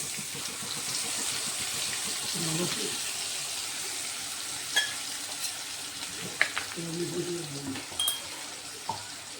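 Tomatoes and spices going into a frying pan while making jackfruit seed kofta, a moderate sizzle and stirring with a few sharp utensil clinks near the end, no clear talk.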